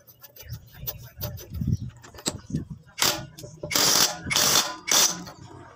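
A cordless impact wrench tightens a cylinder head nut on a Honda TMX 155 motorcycle during a top overhaul, giving several loud bursts of rapid hammering from about the middle on, with softer tool handling clicks before them.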